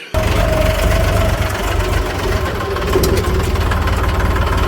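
A tractor engine runs loud and close in a steady, low, throbbing rumble with a faint knocking pulse. The sound holds without a break from just after the start to the end.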